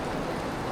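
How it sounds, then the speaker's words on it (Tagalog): Rain falls steadily in Singapore, a brief dense wash of hiss with no distinct drops or voices. "tumigil na yung ulan kanina, pero lumakas ulit siya ngayon"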